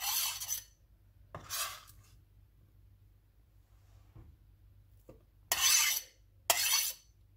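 Food is scraped and tipped into bowls in a home kitchen while preparing fried rice, heard as four short bursts of clinking and rasping against dishes separated by near silence.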